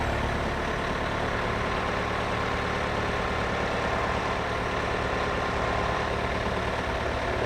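A tractor engine idles with a steady, loud, low diesel drone that holds unchanged throughout, with no speech over it.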